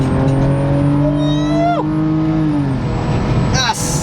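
A BMW E46 engine drops in pitch and then flares into a loud, sharp rev during a quick downshift, heard up close from inside the car.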